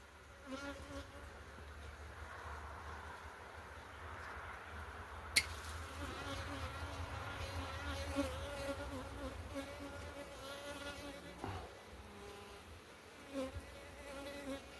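A bee swarm buzzes steadily and faintly while being cut down with a pruner, with a few sharp snips and clicks breaking through the continuous hum.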